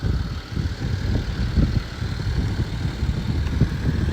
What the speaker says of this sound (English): we'll have a little listen to that V6 diesel. Just listen to that purring away